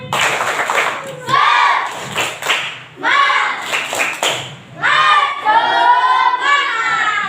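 A school class performs the rhythmic 'tepuk semangat' clapping chant, sharp claps in quick patterned bursts mixed with children's chanting voices, loud and close, in several separated phrases.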